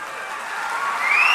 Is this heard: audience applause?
yes